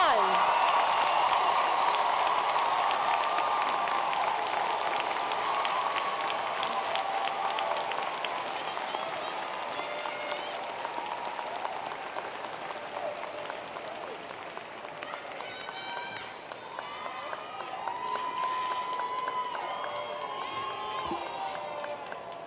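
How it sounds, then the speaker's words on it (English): Large commencement crowd at a spring graduation gives the graduating class a long, rousing ovation, dense clapping with cheers and whoops that stays steady then thins slightly, with voices mixed in toward the end. "a wonderful, rousing round of applause"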